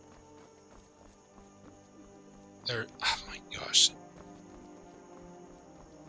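Horse hooves in the video game Skyrim, three brief clip-clop bursts clustered near the middle, fairly close, rising above quiet game ambience while a person talks.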